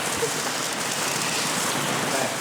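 Steady rain patters densely on a surface, a constant hissing wash with no breaks throughout.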